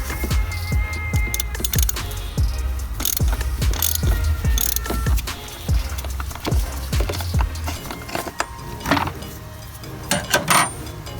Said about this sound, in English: for the oil filter, 27mm socket.